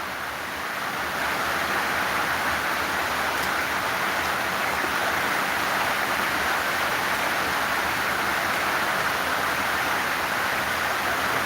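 Steady rain falls during a football match at a stadium, a loud, dense, unbroken hiss of downpour with no voices, lasting throughout.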